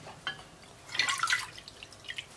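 Water poured from a cup into a pot while making Gujarati kadhi, a few soft splashes and trickles, quiet and close.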